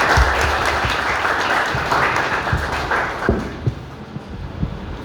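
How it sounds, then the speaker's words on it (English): Audience at a career counselling seminar gives a loud round of applause to welcome a guest speaker, close dense clapping with some thumps, tapering off toward the end. "Please welcome Mr. Dominic with a big round of applause."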